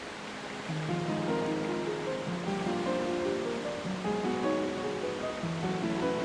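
A rushing waterfall in the video game The Legend of Zelda: Twilight Princess gives a constant broad wash of falling water, mixed with soft game music playing over it.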